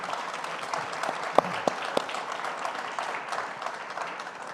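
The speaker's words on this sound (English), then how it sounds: "Quick round of applause for our speakers." A room of listeners at a space-sector talk event claps for the speakers, a short burst of moderately loud applause with a few sharp individual claps standing out near the start.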